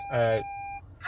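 A bright electronic chime sounds once as the start button of a 2015 Nissan Leaf electric car is pushed, a layered tone holding about a third of a second, followed by a thin lingering beep and a second chime starting at the end.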